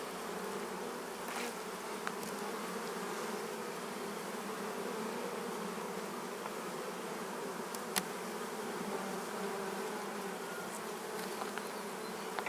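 Honeybees working at a hive in an apiary in early April, carrying in pollen: a dense, steady buzzing hum close by, with individual bees zipping past now and then.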